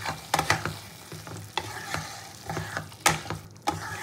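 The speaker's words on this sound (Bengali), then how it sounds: "এই অবস্থায় আমি মটনের ফ্যাটটা দিয়েও একটু কষিয়ে নেব ভালো করে" Mutton fat, liver and potato fried and stirred in a pan, with repeated loud scrapes and knocks of a spoon against the metal over a moderate sizzle.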